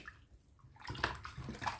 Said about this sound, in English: So next we're washing the beef.